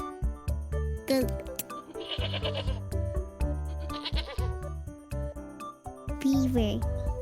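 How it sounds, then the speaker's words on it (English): A goat bleats in short wavering calls over a steady bed of children's background music, the bleats loud and close and repeating two or three times. "goat"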